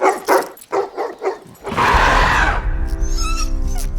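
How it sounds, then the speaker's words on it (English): A police dog barks in a scene from the film Rise of the Planet of the Apes, a run of sharp barks followed by a dense burst of loud noise and agitated, whining tones. "Caesar is insulted at first by the cop dog barking at him"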